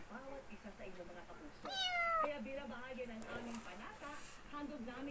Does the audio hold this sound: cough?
no